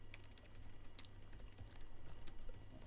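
Steady, rapid clicking of typing on a computer keyboard during a livestreamed biology GCSE exam, with irregular keystrokes running throughout at close range.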